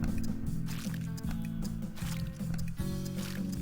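Jelly being stirred in a SpongeBob video game minigame, a repeating thick squishy sloshing in steady cycles over a looping game tune, close and without talk.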